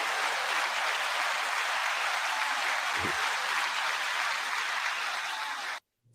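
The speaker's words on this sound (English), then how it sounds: "9-second applause" A studio audience on a hip hop culture talk show gives loud, sustained applause, a thick, uniform roar of clapping that runs several seconds before cutting off abruptly.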